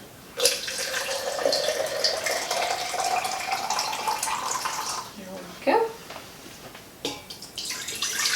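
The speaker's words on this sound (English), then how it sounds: "I'm going to put in a cup of water to make sure that it doesn't burn up." A cup of water poured into the bottom of an Instant Pot for pumpkin puree, a steady trickling splash running for about five seconds, then brief clatters and a second short pour, with a voice speaking briefly.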